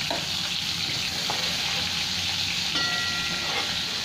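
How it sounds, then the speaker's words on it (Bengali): Steady, dense sizzling of pointed gourd frying in hot oil, close and continuous, with a few faint clinks and taps over the constant crackle. "পটলগুলো লাল লাল করে আমি ভেজে নেবো।"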